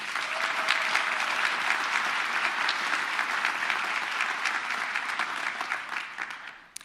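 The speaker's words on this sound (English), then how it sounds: "let's give them another round of applause" Sustained applause at a spring graduate convocation ceremony, a full crowd clapping loudly and steadily for the volunteers and staff before tapering off at the end.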